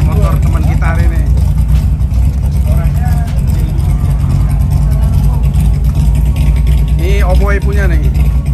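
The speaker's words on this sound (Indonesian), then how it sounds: "Motor Cap udah bunyi tuh" Motorcycle engine runs loud and close on a group ride, a steady rumbling drone with rising revs, while several people talk over it.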